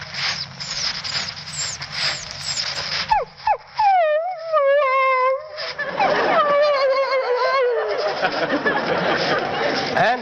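A man vocally imitates a dog that feels left behind and wants to go along with its master: a run of high, sliding whines and whimpers, then rising yelps over murmuring from a studio audience.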